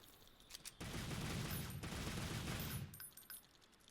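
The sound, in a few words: Devil May Cry dual guns firing, Monster Hunter World video game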